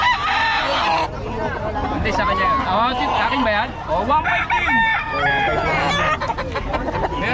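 Roosters and hens at a poultry market cluck and crow loudly and repeatedly, close by and overlapping. People haggle over prices in Filipino throughout, and the bird calls rise above their conversation.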